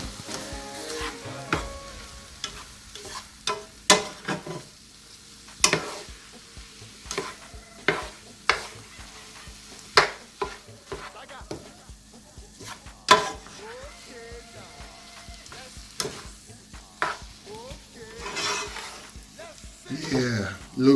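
Cooked, soft noodles being stirred in a frying pan on Christmas day, with a steady low sizzle broken by repeated scraping and clacking strokes of the utensil, fairly close and moderately loud.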